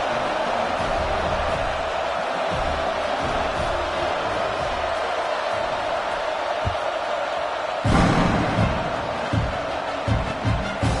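A stadium crowd in the NCAA 26 college football video game keeps up a steady background roar with a louder surge near the end, under a commentator talking.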